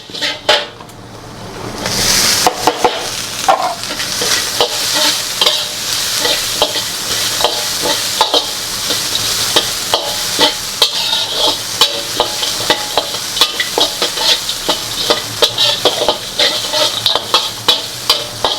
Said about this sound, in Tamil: லைட்டாக பச்சை வாசம் போகிற அளவுக்கு வறுத்துருங்க